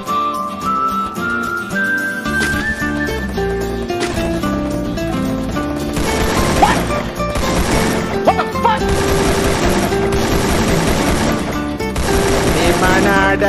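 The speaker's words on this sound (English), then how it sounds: "Heavy machine gun." Heavy machine gun fire in the video game Free Fire, long rattling bursts mixed with crashes and whistling effects over a busy, loud game soundtrack, with voices talking intermittently.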